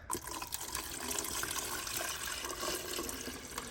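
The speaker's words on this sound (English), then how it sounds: "we're gonna pour our water in. Just like that." A steady stream of water pours and splashes into an Arctic Air Cooling Tower 2.0 portable air cooler, continuous and fairly close, with no voices.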